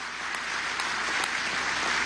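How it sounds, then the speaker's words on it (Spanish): Continuous applause from a crowd at a Venezuelan government event, even and sustained, heard without speech. "Aplauso a Monagas"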